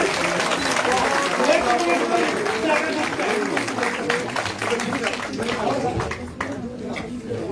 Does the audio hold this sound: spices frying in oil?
no